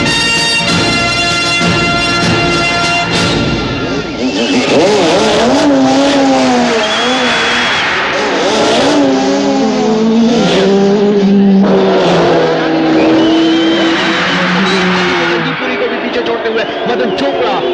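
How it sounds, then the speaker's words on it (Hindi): Race cars speed along a track during a film race scene, engines roaring and shifting pitch continuously at high volume, with voices and other sound layered over them. "मदन चोपड़ा लगभग उनके साथ साथ ही अपनी गाड़ी बढ़ाते हुए, लेकिन एकदम से लीड लेते हुए"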